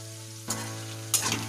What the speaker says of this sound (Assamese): সেইখিনি ভালকৈ ভাজি ল'ম